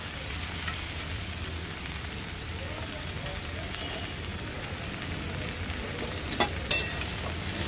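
Soft vegetables and freshly added chopped greens cooking in a pan, a constant hissing sizzle with a few sharper scrapes of stirring toward the end.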